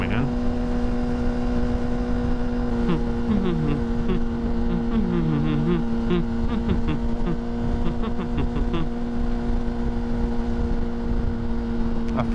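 A motorcycle engine hums steadily under rushing wind on a cold ride, with rising and falling tonal sweeps as it revs, constant and close throughout.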